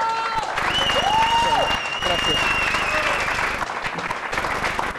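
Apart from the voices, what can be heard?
studio audience applauding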